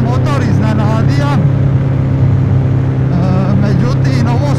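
A 2022 Triumph Rocket 3 R motorcycle rides at speed, its engine giving a steady, close, low droning hum throughout while someone talks over it.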